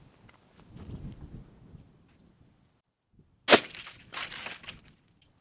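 A Remington 870 pump shotgun fires Federal Premium Personal Defense rounds outdoors: one loud, sharp blast, then a second burst of shot and echo a moment later, after quieter shuffling and handling noise.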